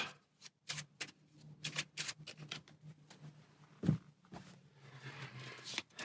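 Game cards being shuffled for the board game Tiny Epic Dungeons, a series of quick riffling bursts and soft card snaps at close range, quiet and uneven, with no voices.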